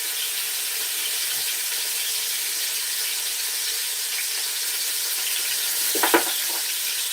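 Goat and chicken meat sizzles as it browns in a pot, a constant bright frying hiss with a short burst of stirring or clattering near the end.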